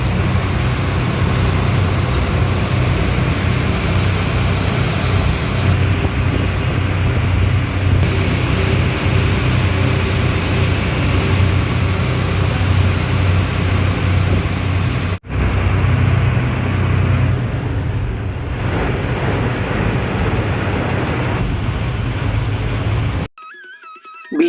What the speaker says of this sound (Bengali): রানী রাসমণি ফেরিঘাট থেকে আমাদের লঞ্চ ছেড়ে দিয়েছে, এখন আমরা চলেছি বল্লভপুর ফেরিঘাটের দিকে।